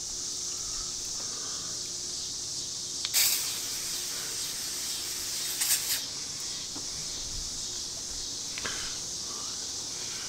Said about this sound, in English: I'm going to use some off insect repellent